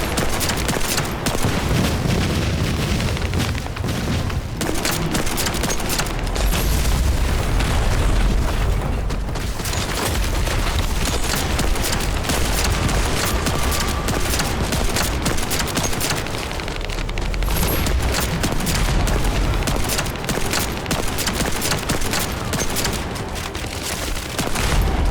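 Dense, continuous gunfire and booming blasts from a ring of guns in the shooter video game The First Descendant, loud and relentless with overlapping bursts and explosions throughout.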